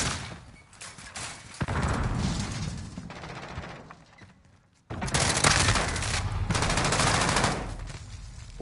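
Rapid automatic gunfire from a gun in Call of Duty: Modern Warfare 2019, two long dense bursts of loud shots split by a brief quiet gap, with no talk.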